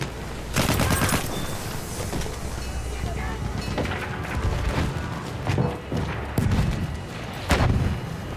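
Booming explosions and bursts of gunfire from the video game Battlefield 1, with several heavy blasts punctuating continuous battle noise and shouting voices, including a grenade detonation.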